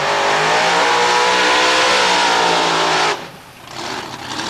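A 1957 Chevy four-door drag racing car with nitrous runs through mufflers on street tires, its engine holding a loud, steady high-rpm roar before cutting off abruptly into quieter rumbling.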